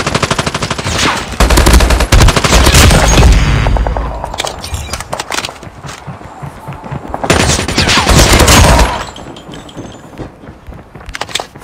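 Gunfire from the mobile shooter Call of Duty Mobile: loud rapid bursts of automatic fire in two long volleys, with sparser single shots and quieter gaps in between, no voices.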